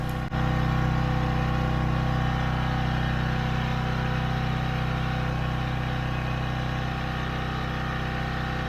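Generator engine running steadily to power an air compressor outdoors in the woods, a loud, continuous drone with a low hum and no change across the whole stretch.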